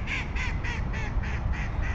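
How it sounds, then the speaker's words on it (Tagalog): A duck quacks in a steady run of about seven evenly spaced calls, fairly close, over a constant low background rumble. "Mga ibon dito, ibang klase."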